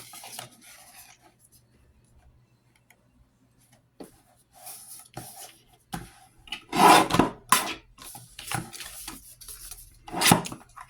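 Paper for junk journal gussets is trimmed with short, dry scraping and cutting strokes. The sounds come in bursts that grow louder and denser toward the end, with near-silent pauses between.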